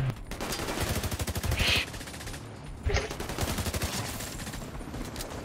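Gemma Pulse gunfire in The Division 2 on PC: rapid, evenly spaced automatic shots rattle in steady bursts, pausing briefly near the middle and then starting up again, loud against the background game sounds.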